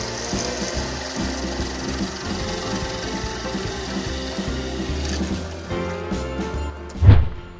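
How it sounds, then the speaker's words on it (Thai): Power drill boring a 10 mm hole through the head of a steel C-channel in a DIY workshop, a steady grinding, rasping drone for several seconds that shifts near the end and finishes with a brief loud burst. "เราจะนำเหล็กตัว C หรือว่าเหล็กตัว U นี้นะครับ ไปทำการเจาะรูส่วนหัวตรงนี้ครับ"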